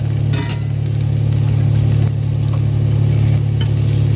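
Potatoes frying in a skillet as butter melts in, a loud steady sizzle over a strong low hum, with a few brief scrapes and stirs, and no speech.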